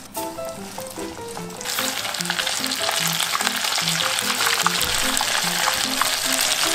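Pieces of sea snake fry in hot oil, giving a loud, steady sizzle that swells after the first couple of seconds and continues with crackles while a low hum runs underneath.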